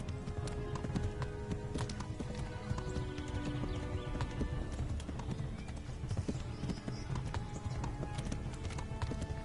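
Horse hooves galloping in a PS4 video game, fast rhythmic clip-clop throughout, with faint neighing and busy game background sound mixed in.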